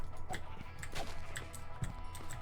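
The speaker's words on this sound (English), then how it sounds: "Hey, there's a sheep." A Minecraft sheep bleats in the video game: several short, quiet bleats repeat at a steady pace over low background hum.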